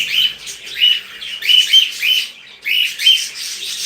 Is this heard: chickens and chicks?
no